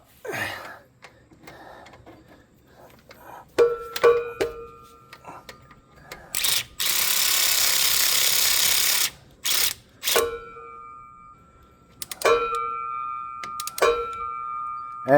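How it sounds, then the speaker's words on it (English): Ratchet driving brake caliper bolts on a 2001 Ford Excursion or Super Duty during a brake job, with bursts of rapid clicking and a longer continuous whirring stretch in the middle, close up with no talk. "I just run them in with the ratchet until they touch, and then I torque them myself"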